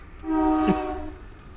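A train horn sounds in a long, steady harmonic blast that swells and fades as it passes, with faint rail rumble underneath and no talking.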